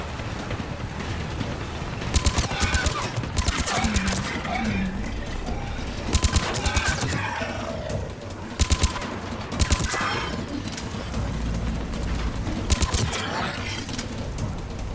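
Firefight gunfire in Mass Effect 3: repeated bursts of rapid automatic shots cut through a continuous loud din of combat noise, with clusters of sharp cracks recurring every few seconds.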